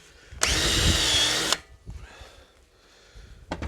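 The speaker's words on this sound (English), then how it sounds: "Using an old knackered step drill I've got knocking around" An old, worn step drill deburring holes in a workshop, one loud continuous burst of whirring drilling lasting about a second, close up, then quieter clattering handling noises and a brief sharp sound at the end.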